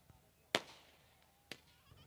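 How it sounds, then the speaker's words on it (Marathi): Firecrackers at a Gudi Padwa Marathi New Year village festival in Chandhai: two sharp, loud bangs about a second apart, each with a short fading tail, over a quiet crowd background. "फटाक्यांची आतिषबाजी, जबरदस्त जल्लोष."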